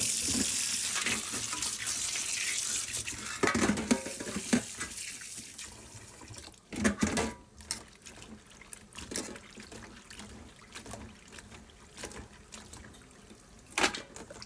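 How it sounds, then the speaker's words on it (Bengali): Tap water runs and splashes over dried tengra fish being washed in a sink, with intermittent clattering and rinsing bursts, close and fairly quiet. "এই তো এখন আমি শুটকিটা ধুয়ে দিচ্ছি ভালোভাবে ওনাকে"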